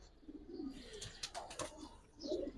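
A pair of gorra pigeons cooing at close range, soft low coos repeating in short phrases with a brief burst of wing or body rustle in the middle.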